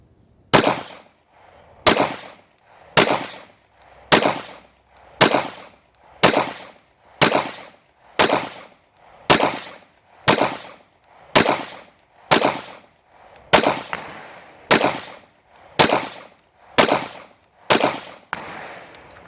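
Pistol shots at a shooting range ring out one by one, about sixteen loud, sharp cracks at an even pace of roughly one every second, with no talking between them.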